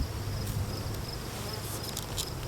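Honey bees buzz thickly at the front of a hive during a fall check, a dense, steady drone close by with individual bees zipping past, and no talk.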